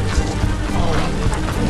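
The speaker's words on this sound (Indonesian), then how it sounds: "Tiba-tiba hujan turun dan Aaron harus menghadapi badai dan air huj" Heavy rain pours steadily in a storm scene from a film about a man trapped in a canyon, a dense, continuous wash of noise with low rumbling underneath, close and loud throughout.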